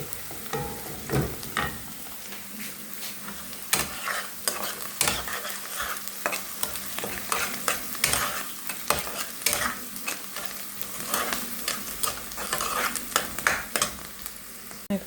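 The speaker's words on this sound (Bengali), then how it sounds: "এখন পেঁয়াজটা ভাজা ভাজা হয়ে গেছে" Onions fry in oil in a pan, a soft sizzle beneath repeated scraping and clacking stirs of a spatula, close and fairly quiet with no talking.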